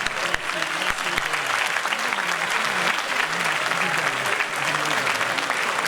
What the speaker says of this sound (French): Applaudissez-le encore très fort, M. Mohamedou Bassir Diallo.